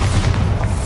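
A Bombarda exploding spell in the Hogwarts Legacy video game sends out a loud, close, deep booming rumble that holds steady throughout the brief moment.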